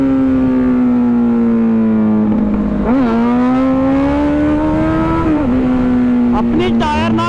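Two Kawasaki Z900 motorcycles race each other: one engine's steady droning note climbs gradually, dips sharply around gear changes and surges again in quick revs near the end, loud and close.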